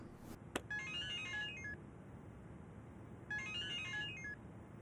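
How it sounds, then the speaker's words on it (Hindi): A telephone ringtone in two melodic bursts separated by a pause, preceded by a brief click, fairly quiet over a low steady background with no talking. "टेलीफोन।"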